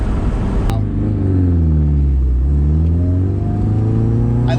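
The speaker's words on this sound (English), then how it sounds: "I love the turbo noise." A car accelerates hard through the gears, engine rumble rising and falling with revs and a turbo whine on top, heard from inside the cabin at close range, loud and continuous.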